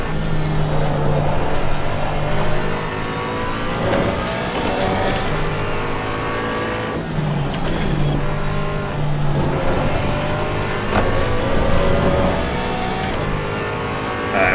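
A GT4 race car engine in Assetto Corsa Competizione at Monza roars steadily at high revs, with gear shifts and pitch changes as it speeds along, loud and continuous throughout.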